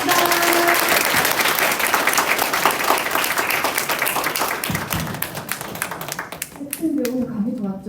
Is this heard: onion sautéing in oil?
no